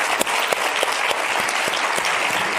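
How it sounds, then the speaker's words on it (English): An audience applauding after a chemistry keynote lecture, dense continuous clapping with crisp individual claps standing out, sustained through the whole moment. "Can we have another round of applause?"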